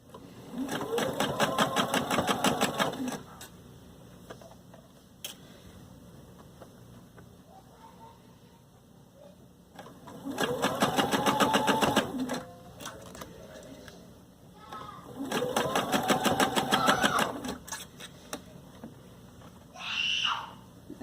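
A sewing machine stitches a sleeve cap in the round in three bursts of rapid, steady needle clatter, with gaps between them and a voice speaking near the end.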